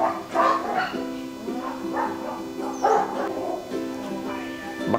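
A pair of white Bac Ha dogs bark and yip in short bursts close by, some whimpering between barks, with a faint voice underneath, on a drizzly day.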